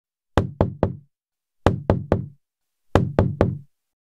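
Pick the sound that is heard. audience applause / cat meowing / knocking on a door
knocking on a door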